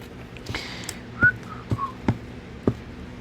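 A person whistles a few short, thin notes, quiet and close, separated by faint clicks and taps in a calm indoor space with no talking.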